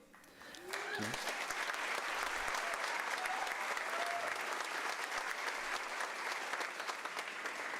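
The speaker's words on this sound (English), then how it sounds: "that deserves an applause" Steady, loud applause from an audience at a high school senior awards ceremony, starting abruptly and sustained as a dense wash of clapping.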